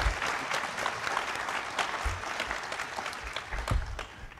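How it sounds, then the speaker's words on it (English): Audience applause at a gaming convention panel, a steady dense clapping from a large crowd filling the room, fairly loud and continuous throughout. "So give them a round of applause just for the fact that they are working"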